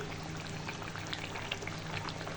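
Boal fish bhuna cooking in oil on lowered heat as it is stirred: a constant fine bubbling hiss with scattered small crackles and faint utensil touches, even and moderately quiet throughout.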